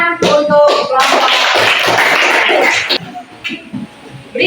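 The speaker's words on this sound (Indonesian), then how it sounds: "mari kita beri tepuk tangan untuk kelompok" Classroom students give a short round of applause for a group after its presentation, a brief burst of clapping from a small crowd that quickly fades into scattered taps and shuffling.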